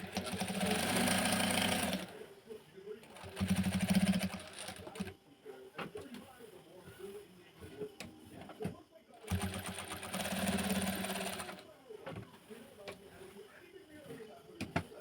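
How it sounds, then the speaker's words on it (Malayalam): A sewing machine stitches the back neck of a churidar in three fast, loud runs of close mechanical whirring, separated by pauses in which someone speaks and fabric is handled. "നമുക്ക് പ്രസ് ചെയ്ത് അടിക്കുന്ന കാണിച്ചു തരാം"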